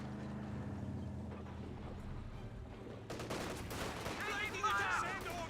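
Half-track firing in Company of Heroes 2: steady rattling bursts of gunfire over a constant engine rumble, louder and busier in the second half with some battle din layered in.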